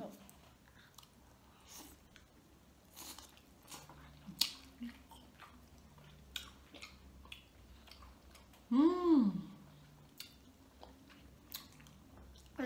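Close, crunchy chewing of Gabonese seafood gumbo, with irregular sharp bites and clicks spread through the clip and a brief voiced hum midway.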